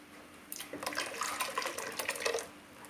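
Ground coconut and tamarind water poured into a bitter gourd curry, a soft continuous splashing pour lasting a couple of seconds, close and fairly quiet.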